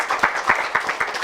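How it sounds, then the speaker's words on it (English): Conference audience applauding at a live event, a short burst of dense, even hand clapping from a crowd, fairly loud and near. "Give a round of applause"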